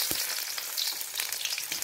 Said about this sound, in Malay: Ni kita bawang putih ni kita belum goreng lagi, kita goreng kenian ya.